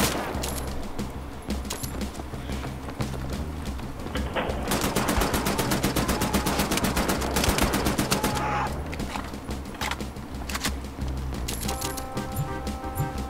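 Rapid automatic gunfire in Wolfenstein: The New Order, loud dense bursts of machine-gun fire lasting throughout, heaviest in the middle, mixed with game music and effects.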